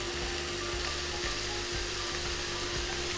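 Jimenez chorizo especial sausage frying in a pan gives a steady, close sizzle, with faint rhythmic scraping or stirring taps underneath and no voices.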